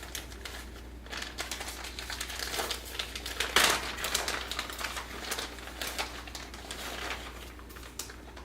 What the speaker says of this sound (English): So we open up our powdered sugar bag.